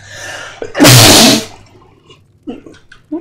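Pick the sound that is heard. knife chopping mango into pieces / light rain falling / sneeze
sneeze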